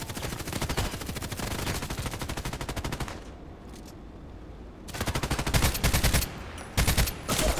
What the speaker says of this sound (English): Still shooting.